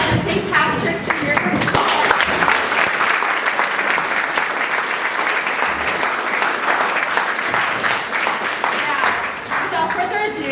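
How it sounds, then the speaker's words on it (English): An audience at an arts night performance applauds steadily and loudly for a school senior ensemble, a dense wash of clapping with a few voices mixed in, sustained throughout. "Another round of applause for St. Patrick's Senior."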